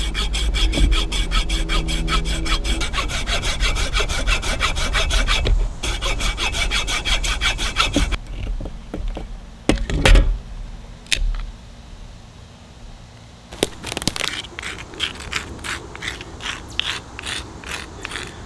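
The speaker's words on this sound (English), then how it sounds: "I just rubbed this on this piece of cement just to round off the sharp corners" Antler flintknapping tool rubbed back and forth against a piece of cement outdoors to round off its sharp corners, a loud rapid rhythmic rasping and scraping, with pauses and a few sharp knocks before the strokes resume.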